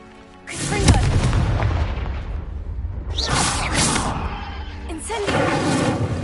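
Confringo explosive spell in Hogwarts Legacy, loud booming blasts with whooshing bursts, one after another over a few seconds, close and heavy. A voice speaks the spell over them.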